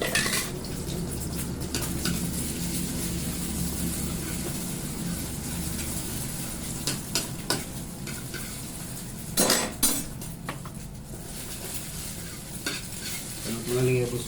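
Fried rice sizzling in a hot pan while a metal utensil stirs and scrapes it, with steady frying hiss and sharp clinks and scraping strokes throughout, loud and close, with no talking.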